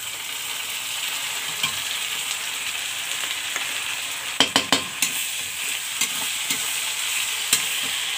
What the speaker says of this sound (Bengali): পেঁয়াজটা আমার ভাজা হয়ে গেছে, এর মধ্যে দিয়ে দেব আদার পেস্ট,